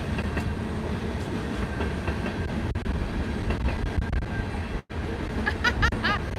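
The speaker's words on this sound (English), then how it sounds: "Oh, look at our train going by." A train rolls past outside a small tiny home, a steady broad rumble with rhythmic rail clatter running throughout, fairly loud and close, with faint voices murmuring underneath.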